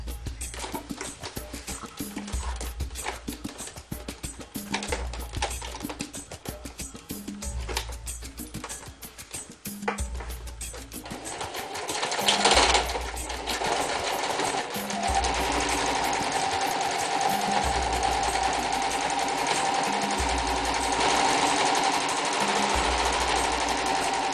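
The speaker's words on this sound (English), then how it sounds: "If you're able to change the stitch on your machine so that it looks pretty, so that it will show and look nice, go for it" A sewing machine stitches through recycled denim jeans in a long, steady run, its rapid needle chatter loud and close, with rhythmic low thumps in the first half before settling into a smoother continuous whir.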